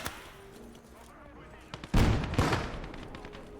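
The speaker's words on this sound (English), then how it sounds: "friendly mortars, friendly mortars, friendly mortars" Mortars land in a war video game, a deep heavy boom followed by a second blast and rumbling debris after a quieter stretch of distant battle noise, with a voice speaking nearby.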